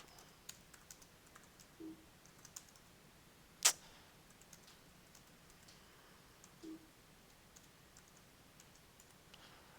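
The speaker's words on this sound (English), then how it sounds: "Typing." Computer keyboard typed in a quiet room during a lecture, a few sparse, faint clicks and taps with one sharper keystroke standing out, alone without talk.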